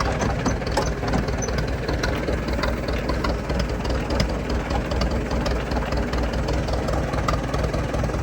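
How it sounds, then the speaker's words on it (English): A farm tractor with a hoe attachment idles close by, giving a constant, loud low rumble with a steady mechanical chug and slight knocking that carries on unchanged throughout, with no talking. "might just move the tractor"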